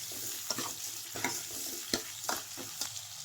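Onions and tomatoes sautéing in a pan for drumstick kara kuzhambu, with a steady soft sizzle and repeated scraping stirs of a spatula roughly every half second, close and moderately loud, no voices.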